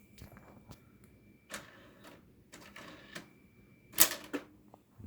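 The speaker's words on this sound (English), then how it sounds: "Oh, is it a printer? It's a printer." An office printer in a refurbished old Windows Vista PC setup runs with intermittent mechanical clatters and bursts, including a sharp louder burst near the end, over a faint steady whine with no talk.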